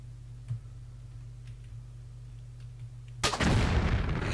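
Explosive ammo fired in the video game Tomb Raider IV, level The Lost Library: a faint click, then one loud, broad blast that rumbles on over a low steady hum.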